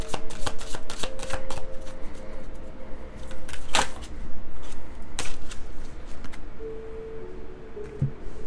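Tarot cards riffled and shuffled by hand, a series of sharp, close flapping bursts and taps in quick irregular runs, with short pauses between them.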